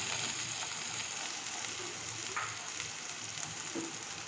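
Chopped onion frying in hot oil with cumin seeds, a soft continuous sizzle with a few faint stirring taps, close and quiet, without talking.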